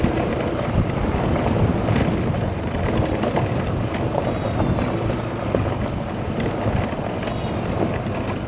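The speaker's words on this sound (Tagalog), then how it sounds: "Ang lakas ng hangin oh." Strong wind buffets the microphone in a constant loud roar, with gusty rumbling and a faint wash of water beneath.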